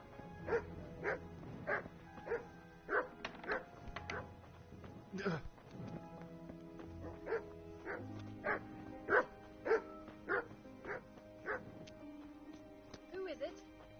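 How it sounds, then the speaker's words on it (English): Dogs in the medieval game Kingdom Come: Deliverance bark repeatedly in rhythmic bursts, some spaced evenly and others clustered, with yips and whimpers mixed in over a low background and a voice talking at points. "What are they barking about, you old hound?"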